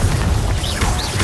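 Fire-blasting Confringo spell exploding in the Hogwarts Legacy video game: a loud, dense booming burst lasting about a second, thick in the low end, with brief whooshing effects layered over it.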